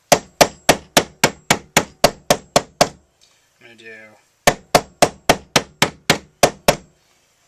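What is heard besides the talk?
hammering tool laid on its side against wood board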